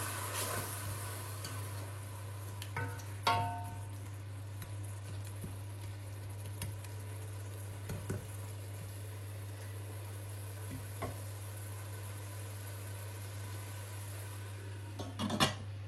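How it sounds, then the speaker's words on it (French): An onion and crushed bell pepper mixture fries gently on low heat, a faint, steady sizzle punctuated by a few soft clinks of a utensil over a constant low hum. "Il faut frire à feu doux."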